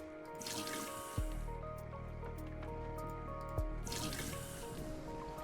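Water pumped out in the city-builder game Endzone makes a steady, faint sloshing and dripping bed, with two low thudding pulses marking pump cycles, alone with no talk.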